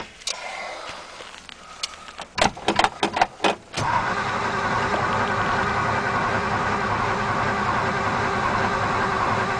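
A 1954 Ford Mainline with suspected corroded points cranks in a few short, uneven bursts, then catches on a cold start and settles into a steady, loud, rough idle that runs on without a break.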